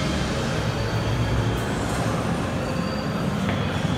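Rumbling interior of the Hogwarts Express train ride at Universal Studios, a steady broadband rail rumble with low wheel and carriage noise running continuously and fairly close, with no talking.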